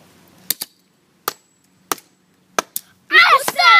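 A Leapster X-Men Wolverine toy is struck hard with a bat and sledgehammer: seven sharp, loud blows in irregular pairs and singles, followed by an excited voice shouting.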